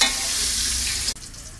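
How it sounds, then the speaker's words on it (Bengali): Potato pieces fry in hot oil with a loud, even sizzle close by that stops sharply partway through, leaving a softer hiss. "আলুগুলো এবার লাল লাল করে ভেজে নেব।"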